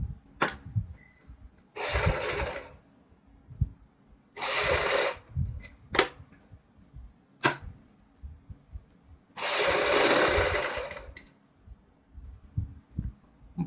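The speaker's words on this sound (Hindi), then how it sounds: "यहाँ से सिलाई लगाएंगे पलटने के लिए।" A sewing machine stitches suit fabric in short runs of a second or two, each a brisk mechanical whirr, separated by pauses with small clicks and handling noises.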